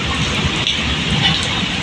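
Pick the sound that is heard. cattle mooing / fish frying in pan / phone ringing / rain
rain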